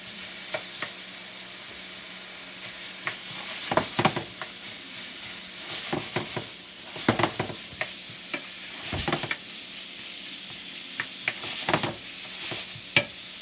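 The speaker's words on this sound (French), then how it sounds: "Les crevettes, on ne doit pas cuire beaucoup les crevettes" Shrimp cooking in a pot, giving a steady soft sizzle with repeated bursts of stirring and scraping clatter throughout, close and moderately loud, no talking.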